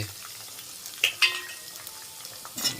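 Onion frying lightly in a pan for Bengali-style egg fried rice, a soft low sizzle with a few sharp clinks of a utensil against the pan, close and fairly quiet.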